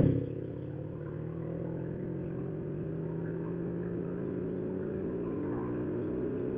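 A 2025 Hong Leong Yamaha Y16ZR motorcycle being ridden, its engine giving a steady, continuous drone with a low rumble and a slight rise in pitch, wind noise mixed in and no talking.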